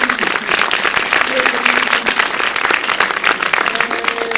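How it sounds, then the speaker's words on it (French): Applause from a theatre audience for a film producer at a screening event of the French film Elle l'adore, a dense, even clapping roar, with a voice briefly heard through it. "Vous pouvez l'applaudir"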